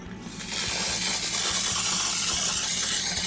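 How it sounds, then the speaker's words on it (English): Ice cream scoops steam cleaned with a steam jet: a loud, steady hiss that builds in the first half second and then holds evenly at close range. "All scoops should be steam cleaned."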